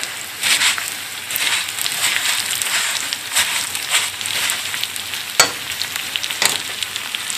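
Green onion frying in a pan for nopales and rice, a loud close crackling sizzle that runs throughout, with rhythmic stirring pulses and one sharp clack.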